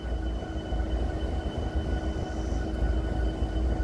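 CSX freight train locomotives pass at Point of Rocks with a loud, steady diesel rumble and droning engine tones, continuous and close, with no talk over it.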